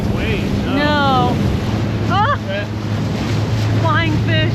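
Wind and rolling ocean waves wash around a sailboat near the Ragged Islands in a loud, constant roar, with voices talking over it.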